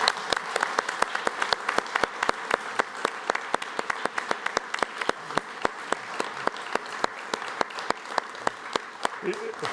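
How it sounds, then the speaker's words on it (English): An audience at a company half-year results presentation applauds steadily for the full length, dense sustained clapping with sharp individual claps standing out, fairly close and without talk. "I think that deserves a round of applause to finish."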